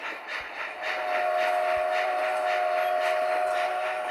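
A train rolls along with a steady rumble and rhythmic clickety-clack, while a sustained whistle-like tone holds through most of the passage, fairly close and loud.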